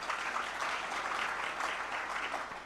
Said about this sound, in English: You deserve a louder applause for sure